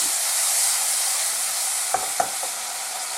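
Brown sugar cooks over medium heat in a pan, giving a loud, constant hiss and sizzle, with a couple of sharp utensil taps near the end as it is stirred.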